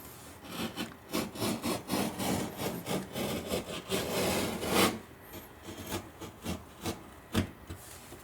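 Damaged drywall paper being scraped and peeled off a dented wall patch, a run of rough, rhythmic rasping strokes close to the mic, with a longer tearing scrape midway and a few sharper strokes toward the end.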